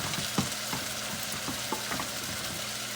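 Frying in a pot for mutton pulao gives a steady sizzle, punctuated by regular clinks and scrapes of a stirring spoon against the metal.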